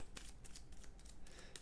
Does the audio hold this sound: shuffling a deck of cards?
yes